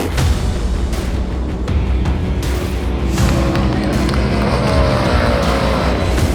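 Harley-Davidson bagger motorcycles revving hard and racing away from the start at a track, a loud dense roar of engines that rises and pulls away, with race commentary over it.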